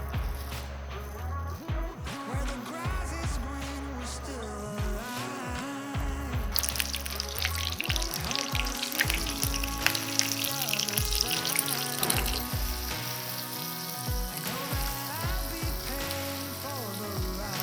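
Korean meat patties (dongeurangttaeng) fry in oil in a hot pan, a steady hiss that swells into louder sizzling midway, with tonal background music.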